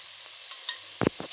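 Soy sauce hits hot fried rice in a pan, giving a short, close burst of sizzling and stirring scrapes over a quiet hiss of frying.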